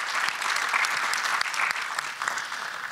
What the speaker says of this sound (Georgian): ესეც შეგვიძლია ტაშით აღნიშნოთ და მიულოცოთ ყველა ჩვენს კოლეგას